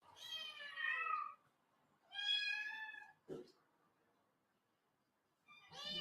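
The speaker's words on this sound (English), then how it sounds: "It's just an assortment of various aged kittens that we've accumulated." Assorted kittens of various ages meow in a few separate high, clear cries, close to the microphone, with quiet pauses between them and no talking.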